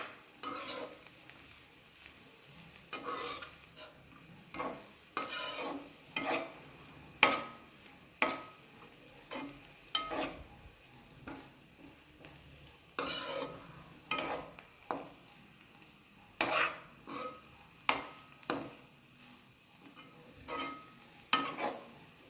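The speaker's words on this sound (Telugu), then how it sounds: "ఇప్పుడు చికెన్ ముక్కలు కూడా వేసేసుకొని ఒకసారి ఫ్రై చేసుకోవాలి" Chicken pieces frying for chicken fried rice are stirred in a pan, a soft continuous sizzle broken by repeated scraping strokes of a spatula against the pan at an uneven rhythm, close and fairly quiet, with no voices.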